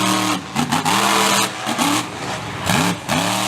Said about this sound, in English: You can hear it sputtering. I believe it might have some issues with some cylinders.